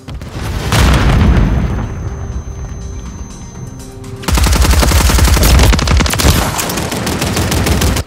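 A grenade detonates with a heavy boom in Call of Duty Modern Warfare 3 multiplayer, and a long stretch of loud, rattling automatic gunfire follows it. Faint talk sits underneath.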